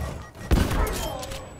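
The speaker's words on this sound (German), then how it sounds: "Und dann kleben wir einfach die Semtex an ihm. Sorgen dafür, dass er explodiert." A Semtex grenade explodes on a zombie in Call of Duty Black Ops Cold War, a single sharp loud blast after a quiet moment, followed by a ringing, decaying rumble with game sounds beneath.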